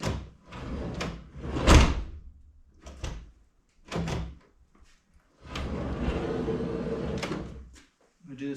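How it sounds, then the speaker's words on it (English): A driver-side sliding door on a 2011-2017 Honda Odyssey is pushed shut after its cable is greased, giving several rolling slides and thuds at close range, followed by a longer sustained rumble of the door moving along its track. "Push the door shut."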